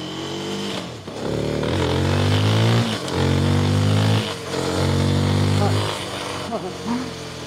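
Rieju Aventura Rally 307 adventure motorcycle, 2025 model, revving loudly as it rides off, its engine pitch rising and falling through several gear changes, close and continuous, with a voice heard briefly over it.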